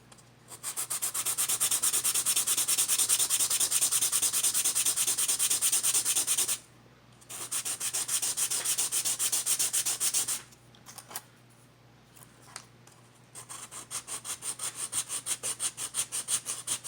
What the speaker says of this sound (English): So I'm going to sand it. I'm going to push down more at one end than the other.